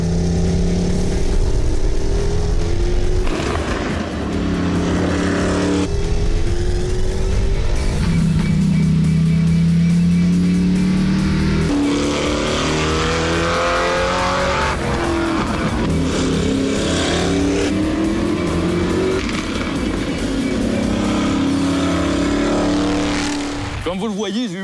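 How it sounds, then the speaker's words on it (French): Vintage-class Chevelle NASCAR race car with a big V8 on a circuit with several other cars, its engine roaring loud and continuous, pitch rising and falling through gear changes, mixed with passing cars and some voices. "Un gros moteur V8, beaucoup de puissance, des bons pneus pour avoir une bonne adhérence et plusieurs voitures en piste."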